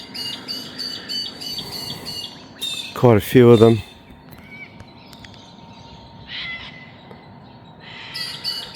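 Birds of prey call outdoors in the Fitzroy region, with one loud, harsh squawking cry in the middle and fainter chirps around it, while someone talks over parts of it.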